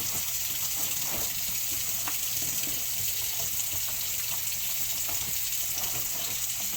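Tap water runs steadily while the inside of an AeroGarden hydroponic unit is washed and scrubbed, a constant close hiss and splash with faint knocks of handling underneath.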